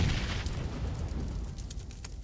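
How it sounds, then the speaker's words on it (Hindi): A thrown Godzilla egg in PUBG Mobile blows up into fire, a dense roaring boom of low rumble with crackling bursts that fades toward the end, with no voices. "उसके पीछे ये गॉडजिला का अंडा डाल देते हैं और आग लग जाती है इस बेचारे के"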